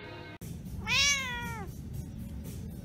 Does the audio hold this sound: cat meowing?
yes